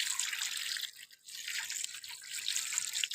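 Water splashing and dripping as food is washed by hand in salted water, a close, steady wet swishing with a brief pause, no talk.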